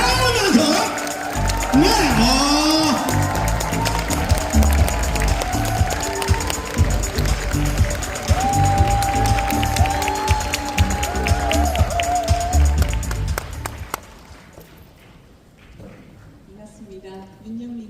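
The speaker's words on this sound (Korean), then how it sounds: "큰 박수로 모시도록 하겠습니다." An audience gives a long burst of applause, dense rapid clapping with some cheering layered under voices and background music, sustained for about fourteen seconds before dropping away to quieter room sound.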